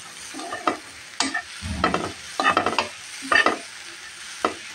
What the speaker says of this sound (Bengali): চিংড়ি শুটকিটাকে আমি একটু ভেজে নিচ্ছি সুন্দর করে